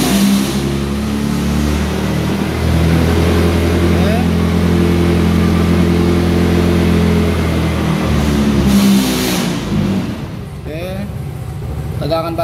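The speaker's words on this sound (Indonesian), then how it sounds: "kita coba nyalakan mesin ya, supaya terlihat RPM-nya" A motorcycle engine idling and revving as throttle is applied during a scan and reset, a loud close steady drone with rising and falling pitch that drops off near the end, with a voice talking over it.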